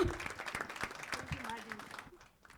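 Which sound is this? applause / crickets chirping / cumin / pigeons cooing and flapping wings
applause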